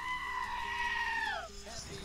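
A goat bleat sound effect triggered by a stream redeem plays as a single drawn-out, wavering bleat that drops in pitch at the end, with talk underneath.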